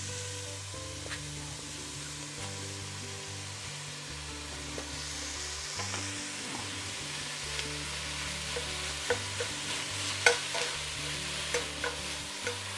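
Chopped onion and ground meat cooking together in a pan for chili con carne, a steady close sizzle with occasional stirring scrapes and light pops, no talking, over a low background hum.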